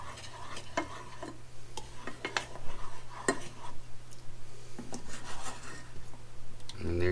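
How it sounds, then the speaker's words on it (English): A spoon scrapes and stirs sugar in a pot, with rhythmic rubbing and light clinking strokes at close range over a low steady hum. "let's keep stirring because you do not want the sugar to burn in the pot"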